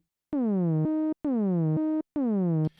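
An ASM Hydrasynth synthesizer plays three separate notes, each a bright buzzy tone whose pitch slides down to a low octave and holds, with short silences between the notes.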